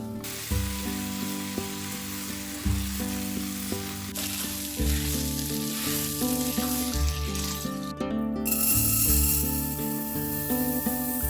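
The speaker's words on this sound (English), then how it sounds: "sautéing for about 12 minutes, stirring frequently until the squash is soft" Squash and onions sizzle steadily in a hot pan, a continuous close crackle with music playing underneath.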